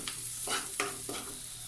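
Garlic and onion sautéing in a little oil in a pan, a steady soft sizzle with a few louder stirring scrapes and clatters through it, close by, no talking.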